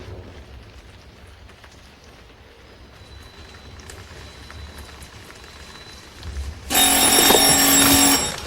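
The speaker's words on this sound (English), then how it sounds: "The phone. It rang once, then it quit." An old telephone bell rings once near the end, a bright loud burst rising suddenly over a quiet, hissy room ambience.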